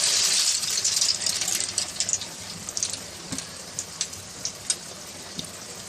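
An egg Mughlai paratha fries in hot oil in a wok over a medium gas flame, starting with a loud, dense crackling sizzle that thins into sparse, scattered pops.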